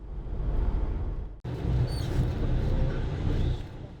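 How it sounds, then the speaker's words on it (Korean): Low engine rumble of a small circulation bus driving through Namwon, South Korea, steady and close, with a brief dip in the noise before the drone resumes. "순환버스는 광안루와 남원 시내를 관통하여 달려갑니다."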